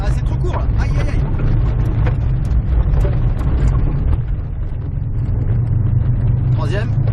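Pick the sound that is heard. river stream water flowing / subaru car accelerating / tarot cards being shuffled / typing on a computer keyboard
subaru car accelerating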